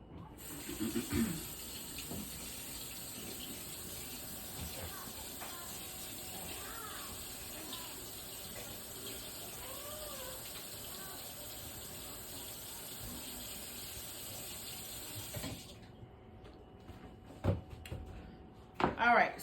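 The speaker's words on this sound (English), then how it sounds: "So we just gonna rinse that off." Sweet potatoes rinsed under a running kitchen tap: a steady, soft stream of water with faint splashing as the potatoes are handled, stopping near the end before a few clunks and handling noises.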